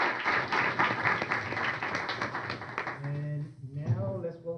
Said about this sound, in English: Let's give a big round of applause for.